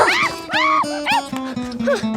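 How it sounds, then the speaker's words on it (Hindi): A dog named Moti barks repeatedly outdoors, about six sharp, evenly spaced woofs over two seconds, loud and close, with some yelping tone in between. "अरे आज मोती भौंक रहा"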